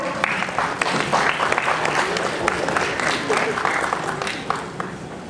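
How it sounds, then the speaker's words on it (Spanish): Audience applause at a lecture for architecture professionals, with steady dense clapping filling the whole stretch, fairly loud, and voices mixed in beneath it. "Aplauso, por favor."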